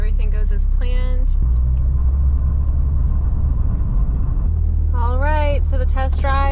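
A school bus pulls out for a test drive after repairs to an oil leak and broken parts, its engine a steady loud low rumble throughout, with people talking at the start and end.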